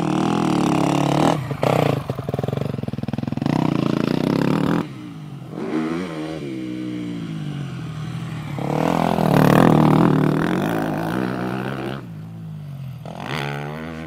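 A dirt motorcycle engine revs and bogs through a tight rut turn as the clutch is slipped, rising and falling in loud, close pitch sweeps with clattering bursts between throttle pulls.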